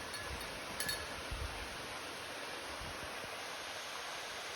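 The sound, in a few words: waterfall in a forest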